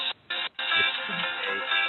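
A phone ringtone plays loudly during an online county freeholder meeting, a bright melodic tune with two brief gaps at the start and then steady tones, sounding slightly compressed as if through the call line.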